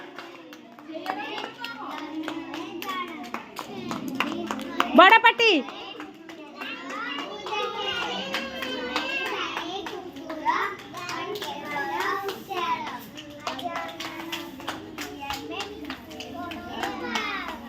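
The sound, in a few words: children clapping hands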